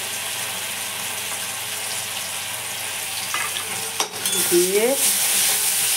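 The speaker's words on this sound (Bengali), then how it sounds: "ভালো করে নেড়ে নেবো।" Chicken frying with soy sauce and tomato sauce hisses continuously in a pan while being stirred, then a sharper clatter and a brief squeaky scrape break through near the end.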